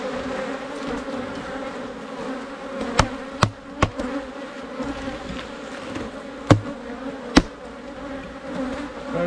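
Agitated honeybees swarm around an opened beehive early in the morning during a honey super harvest, a steady dense buzzing drone with a few sharp clicks and knocks over it, and no talk.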